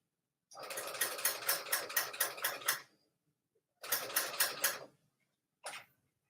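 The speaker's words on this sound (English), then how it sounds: "we'll just stitch right up on the edge" A serger stitches along the edge of a kaftan neckline in three bursts, a long rapid mechanical chatter, a shorter run, then a brief spurt, each separated by silence.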